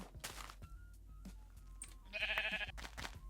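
A sheep in Minecraft Beta 1.7.3 gives a short, loud bleat in the second half, after quieter scattered game noises and clicks.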